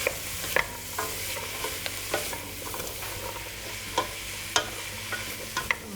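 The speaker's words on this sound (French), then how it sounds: "vous allez les faire revenir jusqu'à ce qu'ils soient quasiment cuits" Onions and red kuri squash sautéing in a pan for a vegan risotto, a steady soft sizzle broken by scattered stirring scrapes and clicks of a utensil, close and moderately quiet with no voices.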